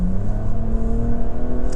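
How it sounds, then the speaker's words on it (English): A 2025 Nissan Rogue Platinum with a CVT at full throttle: a loud, steady engine drone from inside the cabin, the pitch held almost constant, with no talking. "If I floor the accelerator"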